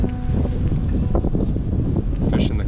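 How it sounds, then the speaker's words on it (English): Wind at about ten miles per hour blowing across a frozen canal during winter bass fishing in North Dakota, a constant close rumble buffeting the microphone with faint rustling on top. "Wind's kind of picking up at like 10 miles per hour right now."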